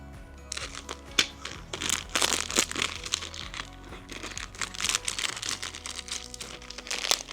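Scissors crunch and crackle through stiff plastic packaging around a jumbo magic sponge. The cuts come close and fairly loud as a rapid series of crisp snips and crinkles with no talking.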